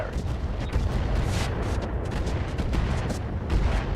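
Mech weapons unload a volley of missiles in RogueTech, a dense rumbling barrage of launches and booms with no clear pauses.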